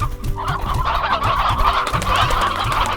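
Chickens in Slime Rancher cluck and gobble in a busy, close flock, with repeated short, rhythmic calls overlapping continuously at a loud level.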